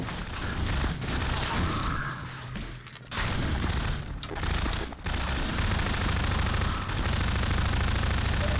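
Gunfire in the video game Half-Life 2: Lost Coast, loud and dense bursts of shooting and booms that continue almost without a break, dropping away briefly three times.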